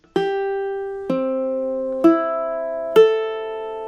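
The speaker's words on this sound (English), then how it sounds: "let's make sure we're in tune. So your ukulele should sound like this." Four ukulele strings are plucked one at a time, each left ringing, the notes stepping through the open tuning at an even pace.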